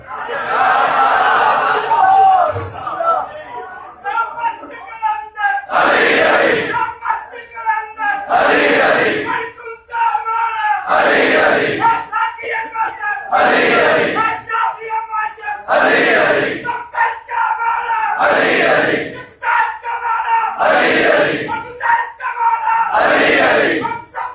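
Crowd at a Shia religious majlis shouting a slogan in unison, loud rhythmic bursts repeating about every two to three seconds with short gaps between them.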